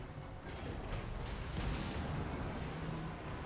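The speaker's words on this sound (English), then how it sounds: "Being fired at high speed out of a cannon." Cannon fire in Total War: Warhammer 2, with cows launched from a cannon in a battle against Bretonnians, heard as a dense, continuous booming rumble of battlefield fire that swells slightly midway.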